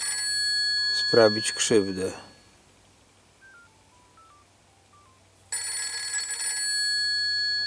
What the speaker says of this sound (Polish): Nawet telefony mi tutaj usiłują przerywać pewne sprawy